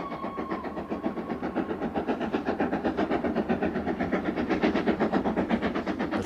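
A steam locomotive on the West Highland line chuffs in a steady, rapid rhythm of sharp exhaust beats, loud and close, with a continuous mechanical roar beneath and no talk.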